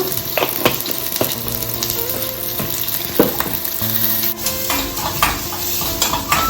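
A tempering of mustard seeds, cumin and onion sizzles loudly in a pan, with frequent clinks and scrapes of a spoon stirring against the metal throughout.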